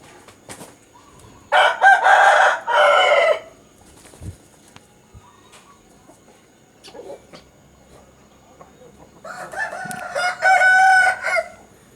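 Bursts of rooster crowing, two loud crows a few seconds apart, with scattered quieter clucks and faint farmyard noise in between, from chickens being fed before transport.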